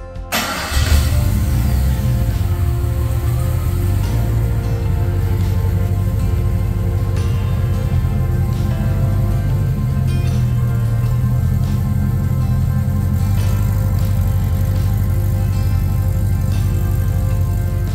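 A 1972 Monte Carlo with an LS engine swap, only partly tuned, starts and then runs steadily at a rough, loud idle. The deep, close engine rumble holds for the whole stretch.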